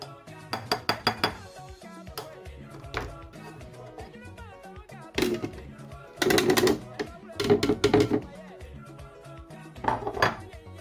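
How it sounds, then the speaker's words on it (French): Cassava root is grated by hand on a metal grater, heard as bursts of rapid scraping and clinking that start, pause and resume, close up in a kitchen while a voice talks intermittently. "c'est mon bout de manioc que je vais d'abord râper avant de le rajouter au mixeur"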